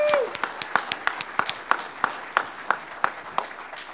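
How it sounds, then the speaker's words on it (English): A conference audience at a networking developers' hardware offloading session gives a round of applause, heard as sparse, distinct individual claps in a steady rhythm rather than a dense roar, moderately close. "I want to do a round of applause for Jamal for putting this together"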